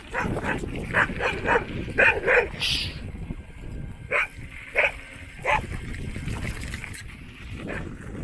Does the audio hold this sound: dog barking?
yes